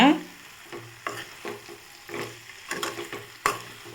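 Okra being sautéed for vendakkai poriyal, a spatula scraping and tapping the pan in a steady stirring rhythm over a soft continuous sizzle.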